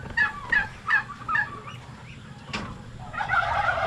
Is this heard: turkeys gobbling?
yes